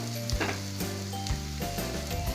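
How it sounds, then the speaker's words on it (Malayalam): Chicken with pepper powder sizzles loudly in a hot pan while a spoon stirs it around, with clanking scrapes against the metal over the constant frying hiss. "നല്ലൊന്ന് ഇളക്കി മിക്സ് ചെയ്യാം."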